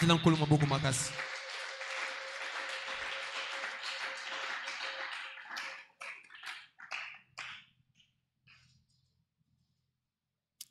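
A church congregation applauds in a dense, sustained wash of clapping for about five seconds, then thins into a few scattered claps and fades to near silence.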